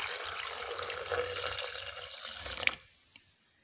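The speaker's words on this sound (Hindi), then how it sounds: "थोड़ा सा इसमें दूध डाल देंगे।" Milk pours steadily into a jug holding cut chikoo pieces, a continuous liquid splash that ends abruptly with a small clink and then quiet.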